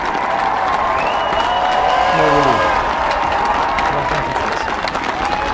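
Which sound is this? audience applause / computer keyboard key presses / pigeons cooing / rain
audience applause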